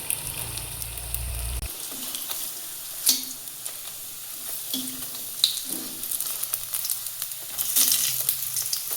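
Battered chillies deep frying in oil, a continuous soft sizzle with scattered pops and clicks over several seconds, close by, with a low hum cutting off early and no talking.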